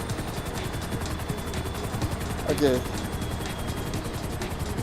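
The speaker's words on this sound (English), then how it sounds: "So let's move on to B while my helicopter is slowly braking." A helicopter in the video game GTA 5 gives off a steady rotor chop that runs throughout, while someone speaks briefly over it.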